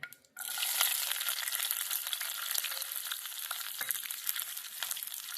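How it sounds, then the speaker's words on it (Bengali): Garlic cloves and a green chili hit hot oil in a frying pan over a medium flame, setting off a sudden, steady sizzle that stays loud and close, with light stirring scrapes and no voices. "রসুনগুলোকে একটু ভালো করে ভেজে নিতে হবে এই মিনিট খানেক ধরে"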